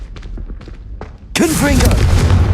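A blasting spell explosion in Hogwarts Legacy erupts as a loud, sudden boom that stays roaring with rumbling debris, after a stretch of softer in-game sounds, close and dominant.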